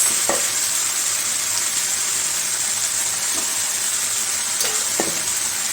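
Continuous sizzling of curry in a hot frying pan with a few sharp scrapes and taps of a spoon as it is stirred, close and steady.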